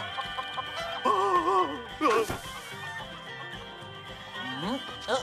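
Cartoon chickens cluck and squawk in a French-dubbed animated series, a few wavering bird calls rising and falling in short bursts close by, mixed with other animated voices.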